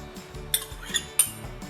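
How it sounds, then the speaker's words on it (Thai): Spoon scraping and clinking against a bowl while a pork mixture with tapioca starch, baking powder, fish sauce and sesame oil is stirred, giving a few sharp metallic ticks over soft, steady scraping, close and fairly quiet. "คนส่วนผสมให้เข้ากันค่ะ"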